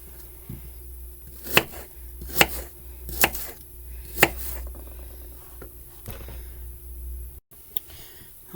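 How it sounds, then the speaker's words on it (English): A knife chopping small apples into chunks on a cutting board, with a handful of sharp, close taps spaced about a second apart over quiet room hum and no voices. "So I'm going to start cutting these up and put them into small chunks and add them to my batter"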